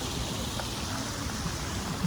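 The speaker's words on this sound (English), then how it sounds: "Listen to that nice water and everything." Steady broadband rush of a stream flowing nearby at a pleasant outdoor spot, a continuous even wash of water with no breaks, fairly constant in level throughout.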